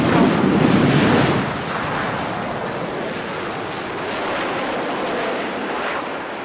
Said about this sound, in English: you can hear the thunder of its engine.